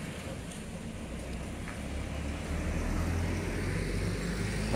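A broiler chicken delivery vehicle approaches on an early-morning road at Dergaon, Assam, its low engine rumble and road noise growing steadily louder over about five seconds against a broad outdoor hiss, with no talk.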